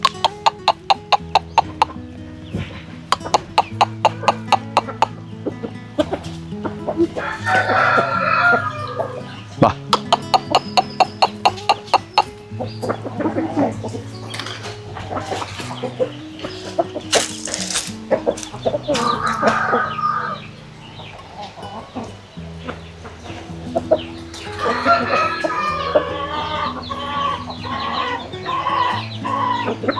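Yellow-legged Peruvidai chickens on a farm, clucking and crowing repeatedly at close range, with someone talking and calling to the birds over them.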